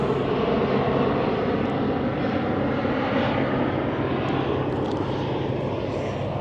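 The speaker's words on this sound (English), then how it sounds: "you can watch the planes land" Airplanes landing near Boston Harbor, heard as a loud, steady jet engine roar that fills the whole clip, drowning out the outdoor waterfront surroundings.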